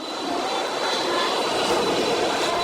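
Inside a massive C-5 Super Galaxy cargo plane in flight, a steady, loud broadband jet roar with a faint high whine persists without pause.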